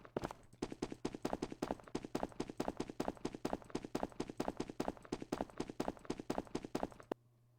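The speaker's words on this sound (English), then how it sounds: "we've got that footstep, and then he will have another footstep about here-ish." Footstep sound effects laid down for a Garry's Mod animation: a long, rapid, evenly spaced run of hard clopping steps, loud and close, stopping abruptly near the end.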